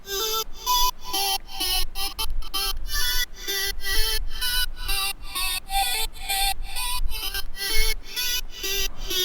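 An electronic music drop for a track pulses in chopped, gated bursts of bright synth chords over a thumping low end, with pitch-sagging tape stop moments breaking the steady rhythm, loud and alone.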